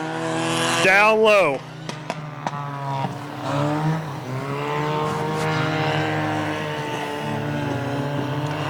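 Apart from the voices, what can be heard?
Hornet class race cars racing at USA Raceway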